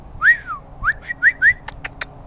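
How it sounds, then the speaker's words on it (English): A pet bird whistles loudly in a quick series of five close, bright rising and falling notes, followed by a few short clicks. "God damn it, bird."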